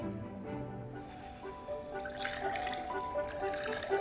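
Wine pours into a glass from a bottle with a soft, steady trickle and light splashing, faint and continuous under a low background hum.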